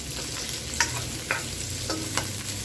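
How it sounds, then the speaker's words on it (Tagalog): Garlic and ginger fry in oil in a pan for a Filipino pakbet with Japanese beans, giving a steady close sizzle with a few sharp crackles and stirring scrapes. No one speaks. "Hintayin po natin hanggang medyo mag-brown yung garlic, tsaka lumabas ang lasa ng amoy ng kanyang ginger."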